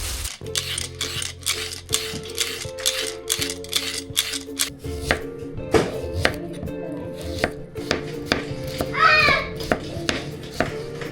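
Rapid knife chopping on a cutting board while preparing hiyashi chuka at home, a steady close rhythm of crisp strikes, with a low hum at first and a voice briefly heard toward the end.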